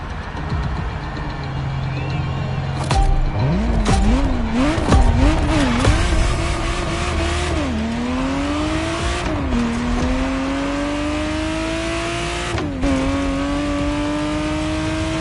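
A Ferrari Testarossa engine at a motor festival revs hard and climbs through several gear shifts, loud and close, with brief tyre squeals near the start.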